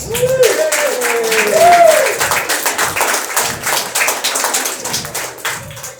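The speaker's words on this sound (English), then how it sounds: "Clap it up, clap it up, clap it up" An audience claps and applauds for a comedian at a stand-up show: dense, sustained clapping from start to finish. A voice speaks over the first two seconds.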